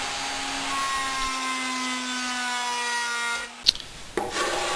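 A hand plane trims the inside edges of a wooden box, smooth scraping strokes with a high whine underneath, then a sharp knock and a brief rub near the end.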